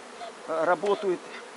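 Honeybees buzz close by in a strong hive colony in short overlapping bursts, a busy droning hum rising and falling against a quiet background.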